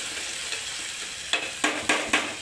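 Green chilli, tomato and peas sautéing in a pan make a constant close sizzle, followed by four sharp scraping strokes of a spoon stirring in quick succession near the end.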